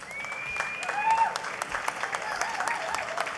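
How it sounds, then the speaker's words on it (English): Scattered applause from the audience at a National Heroes Day awards ceremony, moderately loud and brief, with a voice talking over it. "Big applause there for Ms. Hope Glidden Borden Stevenson."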